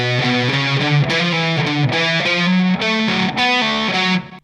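A heavily distorted electric guitar plays the second section of a riff in fast, chugging palm-muted bursts and shifting power chords. It is loud, close and played alone before cutting off at the end.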